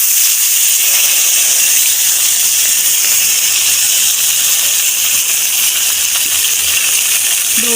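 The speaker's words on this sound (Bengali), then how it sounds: "এবারে আমি জল দিয়ে দেব।" Water just poured over fried pointed gourd hisses and sizzles steadily in a hot pan, a loud, continuous, close-up frying hiss that holds without a break.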